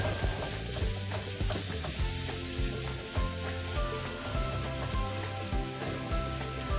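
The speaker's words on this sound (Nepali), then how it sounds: "हजुरहरूले मैले जस्तै गरेर किमालाई चलाइराख्नुपर्छ, नत्र डल्लो पर्छ" Minced keema frying in a pan for a spicy Nepali-style penne bolognese, a steady dense sizzle with rhythmic scraping strokes as the meat is stirred, close and continuous with no voices.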